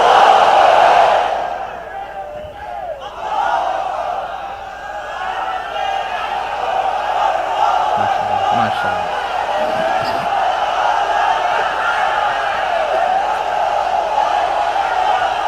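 A large crowd at an Islamic sermon gathering in Chattogram roars a takbir chant, with a loud burst at the start and then sustained crowd noise behind a preacher's amplified voice.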